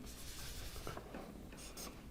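A pen scratching out an electrical equation by hand, faint and close, with soft irregular strokes and rubbing.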